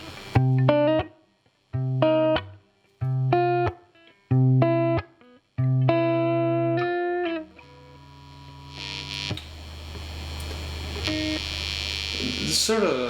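A Squier Paranormal Supersonic electric guitar played dry without reverb: several short, separate strummed chords with gaps between, then a longer ringing chord fading into a noisy, hum-laden tail.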